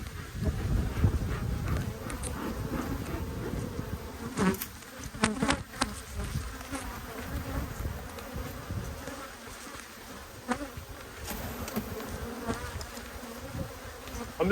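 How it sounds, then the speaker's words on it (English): Honeybees buzzing around an open hive during an inspection in a dearth, a dense continuous hum of many bees close by, with wind rumble and a few handling clicks. "I've got a lot of bees flying around in the air now"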